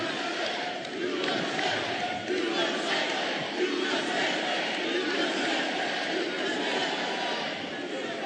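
A town hall crowd cheers and shouts, a dense, sustained roar of many voices from a packed audience that carries on without pause.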